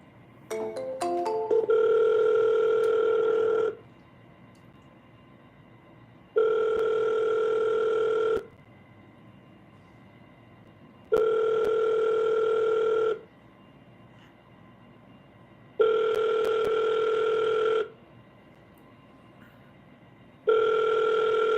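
An outgoing phone call rings through a handset with steady two-second ringback tones at regular intervals, five rings separated by silence, clear and loud with no voices.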